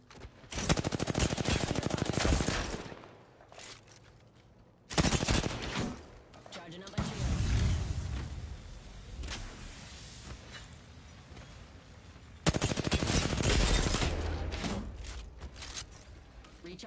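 Video game combat with loud bursts of rapid machine-gun fire and missile launches, several long automatic volleys separated by quieter stretches of whooshing and mechanical noise, with a voice talking in between.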